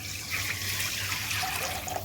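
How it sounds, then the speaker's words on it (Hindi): Water poured into a cooking pot with rice for daal chawal, a steady rushing, tap-like stream that stays close and fairly even throughout. "यहाँ पर मैं पानी ऐड कर दूंगी।"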